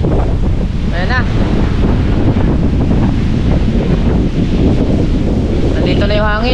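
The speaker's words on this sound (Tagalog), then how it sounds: "Malakas ng hangin." Strong, constant super typhoon wind roars and buffets the microphone in Batangas, Philippines, a dense rushing noise throughout with brief voices breaking through near the start and end.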